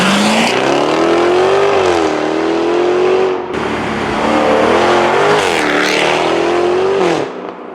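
A 2024 Jaguar F-Type R75 runs close and loud with a deep, throaty engine tone that rises and falls gently, with a brief dip and a couple of small throttle blips.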